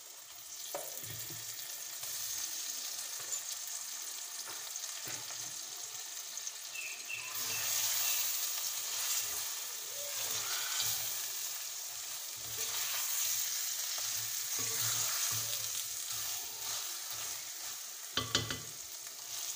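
Chicken frying in a pan for a Kashmiri-style tinda gosht, a dense, continuous sizzle with stirring scrapes, close and steady, with water running briefly and no talking.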